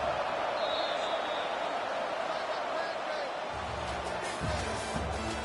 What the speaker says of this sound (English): And this crowd is losing it, frenzied after the back-to-back sacks.